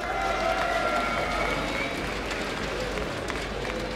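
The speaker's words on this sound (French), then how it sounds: "On peut applaudir Millennium qui remporte cette finale." Arena crowd applauding the winning team at the end of a League of Legends esports final at Paris Games Week 2015, steady loud clapping with cheering, continuous throughout.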